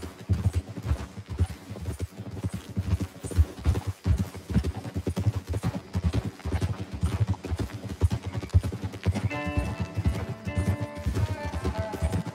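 Horse hooves in Red Dead Redemption 2 clip-clop in a steady, close rhythm as riders travel along a road, and a swell of game music comes in near the end.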